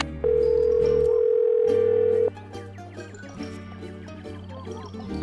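Steady telephone dial tone from a phone call in a Nancy Drew video game, a loud continuous tone holding for about two seconds, then giving way to quieter game sounds.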